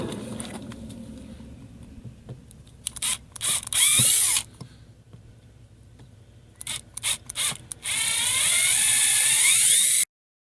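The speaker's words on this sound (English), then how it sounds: "So just drill it until it kind of binds" A power drill with a 7/64 bit bores into the backflow preventer of an outdoor hose spigot, running in two sustained whining bursts separated by short stops and quieter handling noises.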